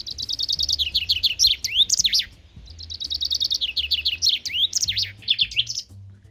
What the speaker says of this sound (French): On entend beaucoup les oiseaux.